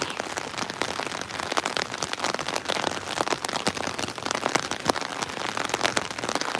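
Steady rain falling outdoors during a walk event, a dense, continuous patter of drops striking surfaces nearby, with no voices over it.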